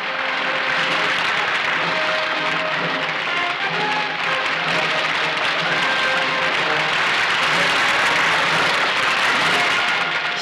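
A packed main stadium crowd applauds as national teams parade in at a sports event's opening ceremony: continuous, thunderous clapping from a distance, with no pauses, throughout.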